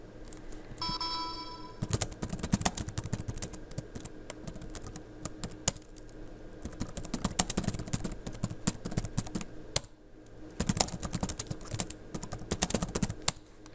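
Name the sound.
typing on a computer keyboard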